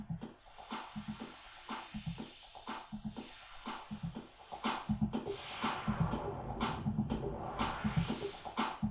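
Noise sound-color effect on a Mixars Primo Serato DJ Pro controller, a hissing white-noise sweep layered over a playing track with steady beats, rising and growing brighter toward the end, with no talking.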